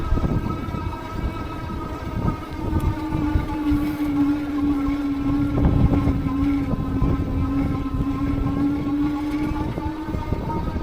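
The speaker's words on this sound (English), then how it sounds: "Motor feels nice, natural while I'm pedaling, not jerky, just nice and smooth" A steady electric motor whine from an Aventon Sinch 2.5 folding e-bike while pedaling holds one sustained tone throughout, over rumbling wind and road noise, with no talking.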